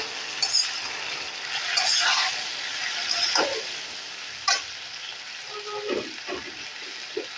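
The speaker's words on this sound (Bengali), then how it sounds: "ভালো করে আবার একটু নেড়ে চেড়ে দেব।" A Bengali drumstick curry (sajna chochchori) simmers in a pan after water is added, with a steady soft sizzle and scattered scrapes and clinks of a spoon stirring through it, close by and moderately loud.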